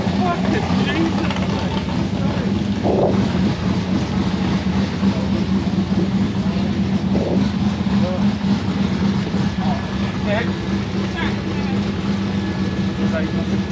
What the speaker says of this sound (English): There goes the nitro car.